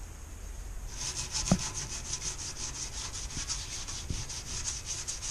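A metallic scrub pad rubs back and forth against a painted tube in quick, even strokes that start about a second in, giving a steady rasping texture with a couple of soft knocks and no speech.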